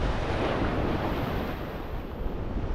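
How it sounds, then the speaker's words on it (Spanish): Strong ocean surf at a beach near Playa del Carmen, a steady, loud, dense wash of breaking waves with some wind rumble, no voices. "el oleaje es un poquito fuerte"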